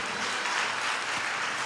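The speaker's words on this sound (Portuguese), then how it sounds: "pode aplaudir o Senhor" Applause rings out during a church service, a steady wash of clapping from a congregation that holds at an even level throughout the short stretch.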